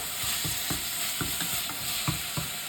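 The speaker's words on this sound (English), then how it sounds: "Now let's add in the ginger garlic paste. Give it a good stir." Chole masala with ginger garlic paste stirred in a pot: a steady close sizzle of frying under soft, rhythmic scraping strokes of the spoon, roughly two or three per second.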